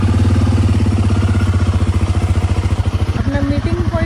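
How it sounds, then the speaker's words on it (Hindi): A motorcycle engine idles just after a cold start, a loud, close, steady pulsing thump with a rapid rhythmic beat. Near the end the tone shifts as another higher sound joins briefly. "बाइक भी कोल्ड स्टार्ट हो गई है"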